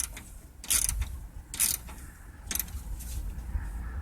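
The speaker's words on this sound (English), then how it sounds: "attach to the top terminal with the solenoid using a 1/2-inch socket or wrench." A 1/2-inch socket ratchet clicks and creaks in several short bursts while tightening a cable terminal nut on the solenoid of a 2007 John Deere LA110 lawn tractor, close and fairly loud with nobody talking.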